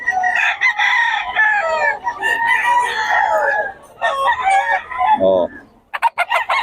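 Chickens and roosters at a Batangas poultry seller's crow and cluck loudly up close, several overlapping calls in succession followed by sharp clucks.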